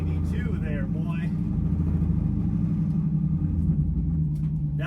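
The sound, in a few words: stock 392 engine rumbling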